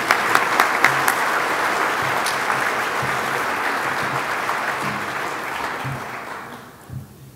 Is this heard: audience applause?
yes